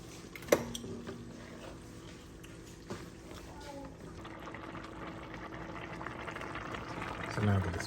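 Chicken stew boiling in a pot on the stove, a steady bubbling hiss with a few clinks of the pot near the start, heard close up with a faint voice in the background.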